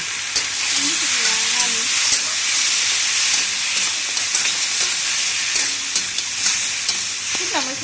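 Dried fish (shutki) fries in a pan with green chilies, giving a steady, close, continuous sizzle and hiss throughout, with a faint voice now and then in the background.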